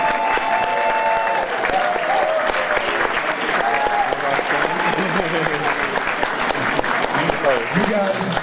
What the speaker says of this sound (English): stand up, give yourself an applause